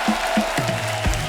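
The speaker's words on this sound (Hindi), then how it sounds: "गुंजन जी और विभू जी का जोरदार तालियों से स्वागत हो जाए" A studio audience claps to welcome two guests onto a Hindi chat-show set, a moderately loud, dense patter of applause running under low tonal sounds throughout.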